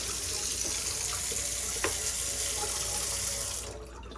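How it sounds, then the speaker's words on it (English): Water runs steadily from a newly installed kitchen faucet into the sink, a loud continuous hiss that cuts off near the end. "So you go back down, put the water back on, and test it out"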